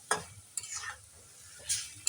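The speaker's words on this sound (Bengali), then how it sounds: "ভালো করে নেড়ে চেড়ে দিচ্ছি।" Banana flower (mocha) being stirred and fried in a pan, with a few scraping strokes of a spatula over a soft sizzle, close and fairly quiet.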